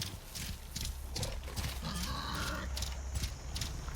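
A Clawstrider machine mount galloping in Horizon Forbidden West, with rapid, rhythmic clopping footfalls and faint mechanical whirs, close and steady throughout with no speech.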